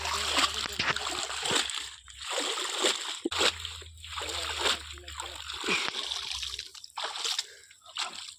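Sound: tilapia fish splashing as net is hauled from pond

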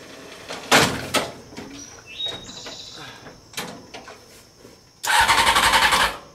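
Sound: Honda CBR 600 engine starting on reverse trike

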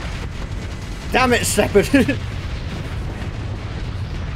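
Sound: special beam cannon firing and exploding, Starsector video game

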